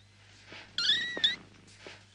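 In a quiet room in a 1977 horror film, a cat gives one soft, drawn-out meow that rises briefly and then fades, with faint rustling on either side.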